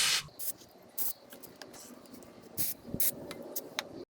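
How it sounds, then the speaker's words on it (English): Short bursts of spray lubricant hiss onto a 2019 Toyota Sienna front power window regulator, several quick sprays spaced apart amid faint handling clicks and rustles, close and fairly quiet. "Okay, now with my spray lubricant, just spray it right in here."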